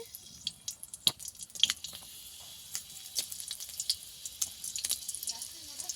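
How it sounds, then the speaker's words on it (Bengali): Four dried red chillies are dropped into hot oil for tempering, giving faint, scattered crackles and pops over a low sizzle, with irregular bursts throughout. "টকে চারটে শুকনো লঙ্কা ফোড়নে দিয়ে দিচ্ছি"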